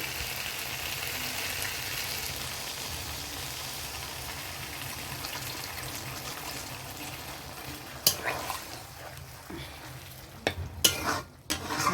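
Okra curry with lentil dumplings stirred and frying in a pan, a steady close sizzle with scraping strokes, a few sharper spoon knocks near the end.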